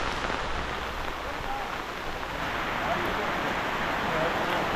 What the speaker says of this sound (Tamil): மக்களே நல்ல மழை